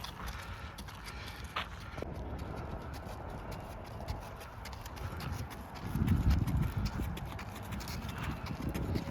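Hooves of a ridden horse clip-clop at a walk during a sunset ride in Azerbaijan, a steady close rhythm of light taps with a brief heavier rustle near the end; no talk.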